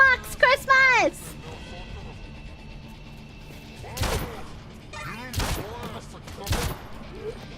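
Gunfire in a video game: a fast burst of close, sharp shots at the start, then several heavier single blasts with ringing tails spread out over the rest, with voices murmuring underneath.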